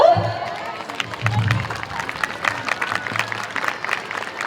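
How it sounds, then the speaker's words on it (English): A crowd at a school's annual sports day in Indore applauds the balloon release opening the events, with scattered clapping and cheering over which voices can be heard. "Put your hands together."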